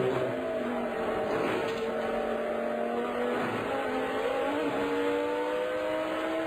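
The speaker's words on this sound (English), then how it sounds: "You heard the engine rev when the wheels got light." Race car engine at the Daytona 24 Hours, heard from onboard as a steady droning whine whose pitch climbs and wavers as revs rise, constant and moderately loud throughout with no talking.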